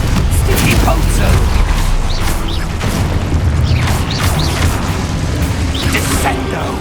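A spell effect in the Hogwarts Legacy video game, a loud magical whoosh and impact with bursts and booms over dense game noise and music, with a voice calling out.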